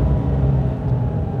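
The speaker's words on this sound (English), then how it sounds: "Just bringing that beautiful flat six induction sound throughout the car." A Porsche turbocharged flat-six engine drone fills the cabin, a constant low rumble with a throaty induction tone, loud and close, with no talking.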